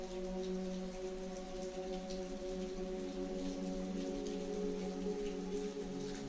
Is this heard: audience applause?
no